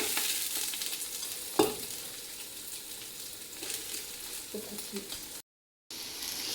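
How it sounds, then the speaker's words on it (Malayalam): Rice is tossed and stirred in hot oil with spices while frying for biryani. A continuous sizzle runs throughout, broken by a few scraping clicks of the utensil against the pan. "ഇനി നമ്മളതിലേക്ക് റൈസ് ഇട്ട് കൊടുത്ത് പയ്യെ ഒന്ന് വറുത്തെടുക്കുവാണ്"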